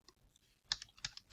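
Keystrokes on a computer keyboard while a Django project is open in Visual Studio Code, a quiet start followed by several sharp, close clicks in an uneven rhythm.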